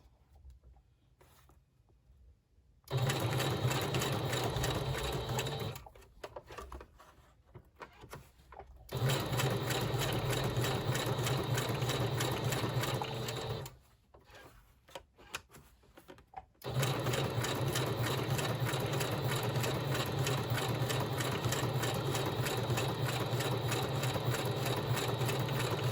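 A sewing machine stitches paper pages for a junk journal in three long, loud, steady runs, separated by short quiet pauses where the needle stops and the work is turned.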